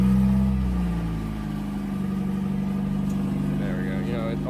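A 1986 Toyota Pickup engine runs with its exhaust pipe cut off, a loud raw rumbling idle that sits steady and close, with a few faint higher sounds late in the clip.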